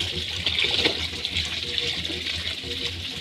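Tap water runs steadily into a basin while clothes are hand-washed with soap, a soft close hiss with gentle splashing and a low hum beneath.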